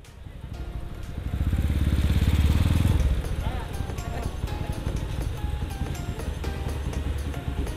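A motorcycle engine idles, revving up briefly before settling back into a steady, rattling exhaust putter, recorded close, with an extra threaded section added to the exhaust.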